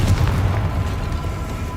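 A Confringo blasting spell explosion in Hogwarts Legacy gives a low, heavy boom that rumbles briefly and then fades under steady game ambience.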